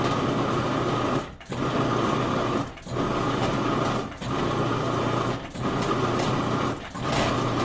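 A food processor pulses a mint chocolate truffle mixture with coconut oil, a steady loud whirring motor broken by five short pauses in a regular rhythm.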